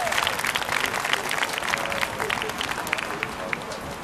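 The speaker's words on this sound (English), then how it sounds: "Clap for Georgina." An audience applauds with dense, crackling clapping that stays at a steady level throughout, with a faint murmur of voices beneath.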